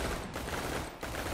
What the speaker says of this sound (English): Shoot him up!